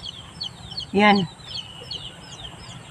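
Chickens being fed moringa cluck softly; one loud, short cluck stands out near the middle, with faint chirps and clucks around it and a brief word spoken.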